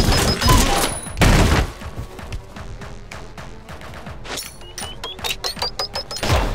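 Bombs go off in a fast-paced first-person action game, with two heavy crashing bursts early on followed by rapid clattering impacts and debris, loud and chaotic.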